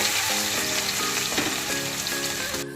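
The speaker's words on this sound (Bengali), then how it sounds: "আদা রসুনটাকে একটু ভালো করে নেড়ে নেব।" Crushed ginger and garlic frying in a pan for chilli chicken, a dense steady sizzle throughout with a few soft strokes of a stirring utensil.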